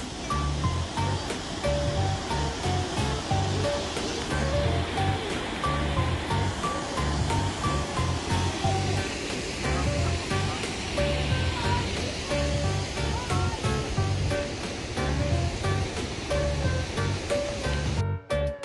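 A waterfall on the Ingleton trail near Carnforth, UK, roars loudly and continuously, a dense rushing wash of falling water that fills the whole scene up close.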